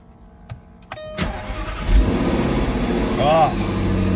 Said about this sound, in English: And now, let's start the car up